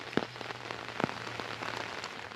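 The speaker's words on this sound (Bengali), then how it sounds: "আজকে বৃষ্টির মধ্যে ট্রেন স্পটিং হবে, মনসুন রেল ফ্যানিং যাকে বলে।" Monsoon rain falls at a railway station, a soft, steady patter on surfaces with a couple of sharper drops standing out, faint and brief.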